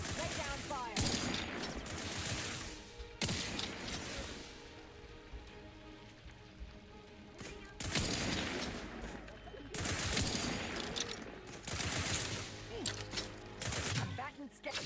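Gunfire in The Outer Worlds 2: repeated loud bursts of shots break out in clusters across the span, with a steady background of game noise between volleys.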